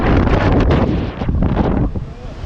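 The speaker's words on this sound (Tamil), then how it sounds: "அந்த காற்று நம்மளை தள்ளி விட்டுரும்" Strong wind buffets the microphone on an exposed hilltop near Swamimalai between Karur and Dindigul, a loud continuous roar with gusting surges and no speech.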